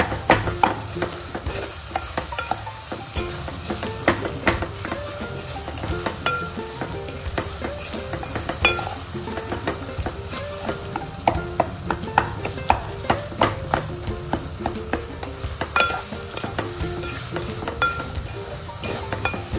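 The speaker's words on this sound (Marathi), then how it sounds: "तुपातच छान केळी सुद्धा छान परतून घ्यायची।" Semolina and banana pieces sautéing in ghee over low-to-medium heat, with a steady soft sizzle under frequent scraping and stirring strokes and occasional light clinks of a spoon against the pan.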